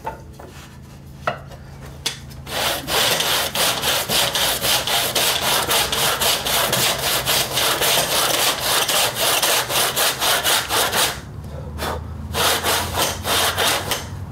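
A hand saw cuts wood in a mitre box, with steady rapid rhythmic rasping strokes, loud and close, pausing briefly near the end before resuming.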